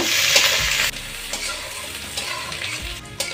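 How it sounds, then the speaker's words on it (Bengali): Chopped onion and green chili hit hot oil and fry with a loud, steady crackling sizzle, broken by several sharp stirring scrapes close by. "এখন আমি দেব পেঁয়াজ কুচি এবং কাঁচা জালের কুচি। এগুলো আমি ভালোভাবে ভেজে নেব"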